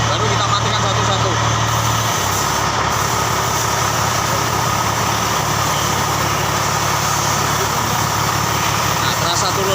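Car engine idling steadily with a low drone, its tone shifting as injectors are switched off one at a time during a diagnostic check, while people talk over it.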